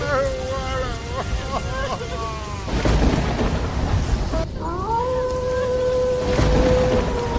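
Heavy rain pours steadily over a village on a bitterly cold night, with thunder rumbling in loud bursts while wailing, crying voices rise above the downpour.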